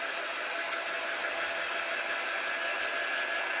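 Hair dryer blowing close up to dry a freshly made pumpkin cutout craft, a steady, loud hiss that runs unbroken for the whole stretch with no voices.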